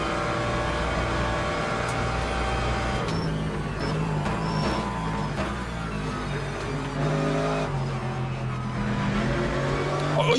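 In the Le Mans Ultimate racing game, race car engines drone and rev continuously at close range, with shifting pitch as cars battle on track, including a Porsche.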